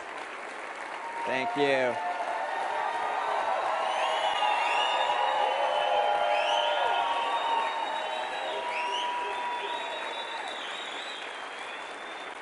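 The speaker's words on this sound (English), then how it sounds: "The applause was a little long." A large audience applauds in a steady, sustained roar of clapping with scattered cheers, while a voice briefly speaks near the start.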